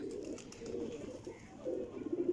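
Soft, low cooing of pigeons, close and continuous, with a few throaty pulses toward the end.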